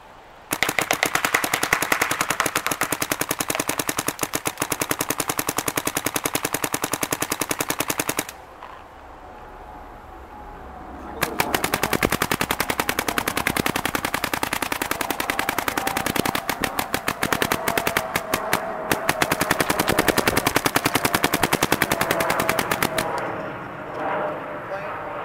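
Dye DSR paintball marker firing in long rapid-fire bursts, a dense crackling stream of shots that pauses briefly and then resumes loud and close, with brief talk near the end.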